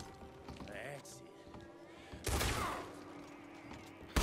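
Gunfire in the Red Dead Redemption 2 story mode, a burst of loud shots near the middle rising out of a busy game soundscape, with talk and other game noise around it.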